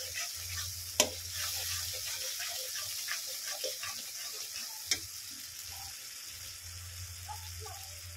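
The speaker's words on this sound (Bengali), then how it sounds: "এভাবে আমি নাড়তে থাকবো। 5 মিনিট একটু কষিয়ে নেব ভালো করে" Cauliflower rezala masala with cashews being stirred and fried in a pan, a faint steady sizzle with soft scraping stirs and two sharp utensil clinks against the pan.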